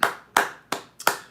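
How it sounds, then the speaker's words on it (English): Four close, sharp hand claps in a slow, fairly even rhythm, the last one doubled with a quick flam, each ringing briefly before the next. "And a round of applause, Lord Elgin with the super chat."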